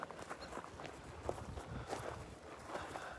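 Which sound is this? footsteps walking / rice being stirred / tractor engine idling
footsteps walking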